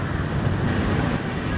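Loud, constant roar of strong wind buffeting the microphone outdoors at Balagbag, Real, Quezon, a dense low rumble with no pauses.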